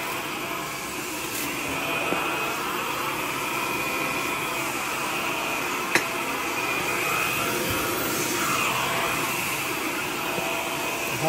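A vacuum cleaner runs steadily on a janitorial cleaning job, giving a loud, constant close-up whooshing whine with slight fluctuations in pitch and a couple of brief clicks.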